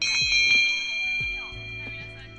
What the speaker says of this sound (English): Bell signaling the end of the day rings through the classroom